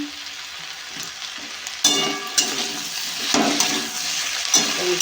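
Tomato goes into a pan of frying fish and mixed vegetable curry. A quiet sizzle jumps louder as it lands, then comes close spatula scraping and stirring, with crackling bursts and no speech.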